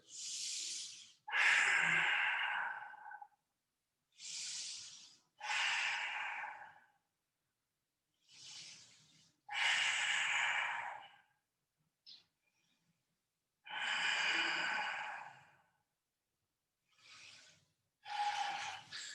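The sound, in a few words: deep breathing during yoga pose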